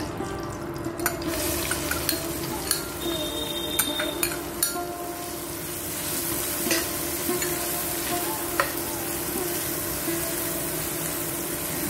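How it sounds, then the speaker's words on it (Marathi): Chopped onion frying in a pan for a snake gourd and field bean stir-fry, a steady close sizzle with occasional stirring clinks and scrapes, no voices. "आपण कांदा कापलाय तो घालूया आता।"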